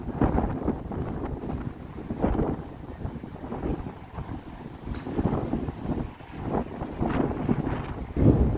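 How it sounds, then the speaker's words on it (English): Gusty wind buffets the microphone outdoors on a downtown Toronto street on a Thursday evening, a loud continuous low rumble that swells and eases in waves throughout. "Here comes the wind again."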